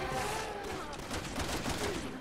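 Gunfire in the video game Resident Evil 6 rattles off as a quick, fairly quiet burst of repeated shots, with game effects and muffled voices underneath.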